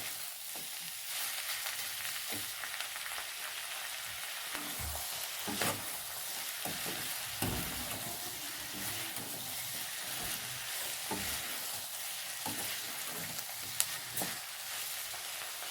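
Onions and capsicum slices frying and being stirred in a kadhai, a steady close sizzle with scraping stirs and occasional clinks throughout, no talking.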